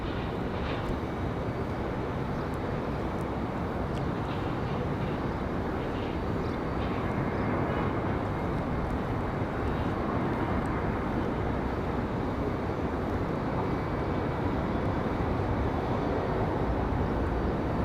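An airliner lands at Raleigh-Durham airport, a broad continuous roar of jet engines and rushing air that holds steady and swells slightly midway, heard from a distance with no talking.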